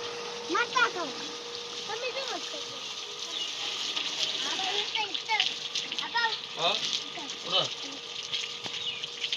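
Water sprays in a continuous hiss during a car wash at a roadside wash spot, with voices and children chattering throughout.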